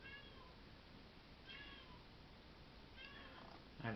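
A cat crying outdoors, faint distant meows repeating at intervals of a second or two against low background hiss, with a louder closer cry at the very end.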